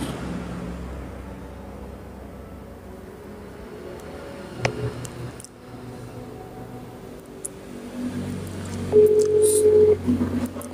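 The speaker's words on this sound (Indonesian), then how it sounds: "Bisa telepon Gus bentar." Phone keypad tones beep over a steady background hum, with a brief sequence of dialing tones near the end, then the line goes quiet.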